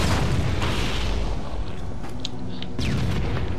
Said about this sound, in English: Holy shit, I'm spamming grenades.